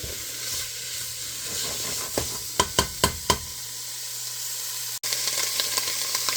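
Ground meat browns in a pan for a budget goulash, giving a steady soft sizzle and hiss with a few sharp spatula scrapes and knocks midway, then the frying carries on alone without talk.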